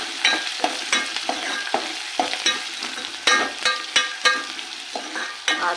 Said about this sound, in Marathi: आता लगेच लसण पेस्ट टाकून मिक्स करून घेऊया